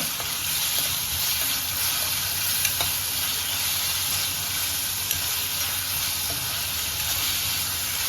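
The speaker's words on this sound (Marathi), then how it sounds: "आता आपण त्यात आलं लसणाची पेस्ट टाकतोय दीड चमचा चांगली परतून घेऊया" Ginger garlic paste and softened onion sauté in a pan for a Kolhapuri-style white crab curry, giving a steady, close, unbroken sizzle with no voices.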